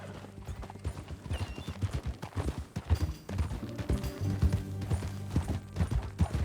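Horse hooves clip-clop steadily in Red Dead Redemption 2, a rhythmic run of close, clear hoofbeats over a low music bed, with a brief whinny-like tone.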